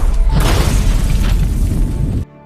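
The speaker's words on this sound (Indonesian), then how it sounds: "Namun mereka justru menemukan sebuah bom yang kemudian bom itu meledak." A loud, close explosion roars out, with a heavy rumbling blast and debris crashing for about two seconds before cutting off abruptly.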